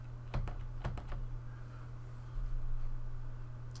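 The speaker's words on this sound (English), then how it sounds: "then I can use my arrow keys on the keyboard to pretty much put the one on top of the other." Computer keyboard arrow keys tapped in a few quick clicks early on, then quiet with a steady low hum and faint background hiss.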